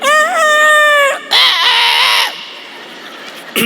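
Roosters crow before dawn, with a loud, close, strained call that rises and wavers, then a second hoarser crow fading off, with no talk over it.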